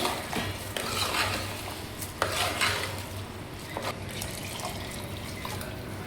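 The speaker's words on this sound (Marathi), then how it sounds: "याच्यामध्ये पाणी टाकलेलं आहे." Water is poured into dal khichdi in a pot, making a close, continuous splashing stream with light clinks of utensils and stirring.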